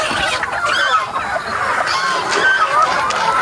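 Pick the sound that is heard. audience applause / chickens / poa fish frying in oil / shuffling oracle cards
chickens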